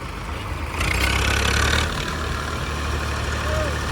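A tractor engine idles with a low, steady rumble beside a canal, briefly swelling louder for about a second before settling back to a continuous drone.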